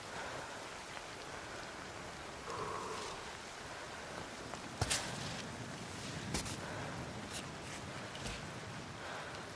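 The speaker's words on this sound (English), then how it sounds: "always picks the worst time to rain." Rain falls steadily in a dense, even hiss, with a few sharp taps and knocks standing out now and then.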